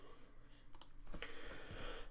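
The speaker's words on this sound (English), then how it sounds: "using the L key on my keyboard." A single key pressed on a computer keyboard during CAD modelling work, a quiet close click standing alone against faint room hiss.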